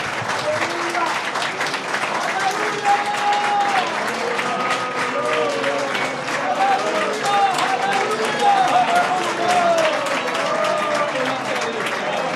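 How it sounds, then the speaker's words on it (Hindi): A church congregation at a Sunday worship service applauds in sustained, dense clapping that fills the room, with scattered voices and cheers mixed in throughout. "मेरे ख्याल में अच्छा होगा अगर हम उसके लिए तालियां बजाएं और उसके लिए ललकारें।"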